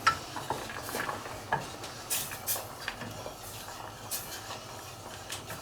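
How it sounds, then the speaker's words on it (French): Spoon scraping and stirring a thickening mixture of cream, crème fraîche and egg for elderflower cream in a pan, with irregular close clinks and scrapes alone at moderate volume. "Attends, je vais touiller pendant ce temps-là, moi."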